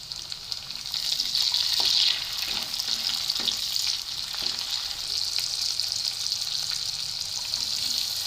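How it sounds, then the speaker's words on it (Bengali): Chopped tomato sizzling and frying with onion in hot oil in a pan, a steady close crackle with a few soft stirring knocks and no talk. "এবার দিচ্ছি একটা টমেটো কুচি।"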